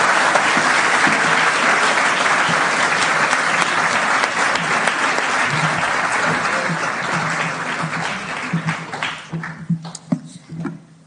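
Audience applause welcoming a visiting alumna speaker at a college event, dense sustained clapping that fades into scattered claps near the end.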